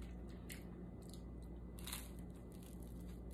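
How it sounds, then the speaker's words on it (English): Soft, close crunching bites and chewing of bread served with cheesy turkey and sausage spaghetti, several faint crackly bursts over a low background hum with no talk. "I'm gonna taste a little bit of the bread."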